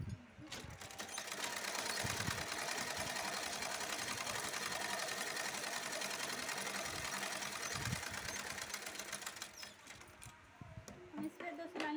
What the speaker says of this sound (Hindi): हम इस पर दो सिलाई लगा देंगे